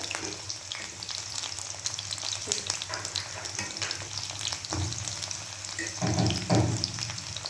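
Food frying in a pan with a steady sizzle, punctuated by scraping and clinks as pieces are turned over with a knife, louder toward the end.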